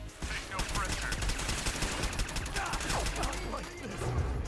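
Rapid automatic gunfire from Fallout 4 fires a whole magazine against power-armored soldiers, dense bursts of shots in quick succession throughout, with a voice faintly underneath.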